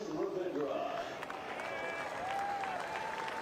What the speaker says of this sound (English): good applause from the Kiwis here